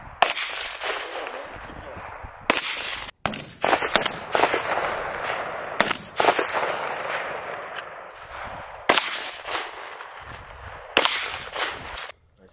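Repeated loud gunshots at a shooting range, sharp cracks spaced a second or two apart with echoing decay, some voices murmuring between shots.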